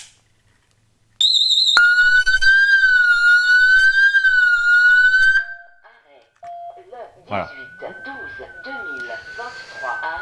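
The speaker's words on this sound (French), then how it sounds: "la sirène extérieure, elle va sonner immédiatement ainsi que la sirène intérieure" A wireless alarm system's indoor and outdoor sirens, set off when a detector is torn from the wall, blare a loud warbling electronic tone for about four seconds and then cut off, followed by someone talking.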